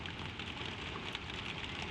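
Gentle rain falling steadily outdoors on spring fields beside a lambing shed, a soft, even hiss of drops with no talk, constant and close.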